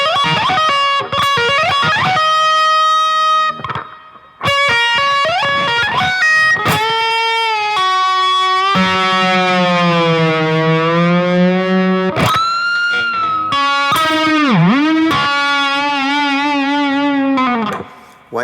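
Electric guitar in Eb tuning playing a tapped lick that sounds like Tetris: quick bright tapped notes in bursts, then long sustained, bending and vibrato notes, with a voice briefly talking between phrases.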